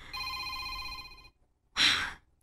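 Phone ringing with an incoming call, a steady electronic tone that stops abruptly, followed by a short breathy sound and quiet.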